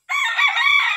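Rhode Island Red rooster at a market giving a single short, loud crow close by.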